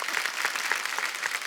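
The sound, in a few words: studio audience applause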